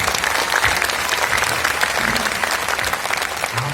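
An audience at a national poetry gathering (kavi sammelan) in Lucknow claps continuously and fairly loud, a dense patter of many hands with faint crowd murmur beneath.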